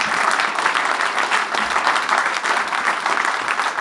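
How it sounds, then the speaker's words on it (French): An audience at the Madame Artisanat d'Alsace 2022 contest applauds a trophy presentation, with lively, slightly uneven clapping from many hands, full and close, with no voices over it. "sous les applaudissements de tout le monde"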